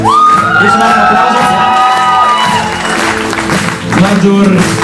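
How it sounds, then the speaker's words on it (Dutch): A crowd at a movie screening event breaks into applause mixed with cheers, whoops and shouting, loud and lively, with a voice speaking over the noise. "Geef ze maar een applaus."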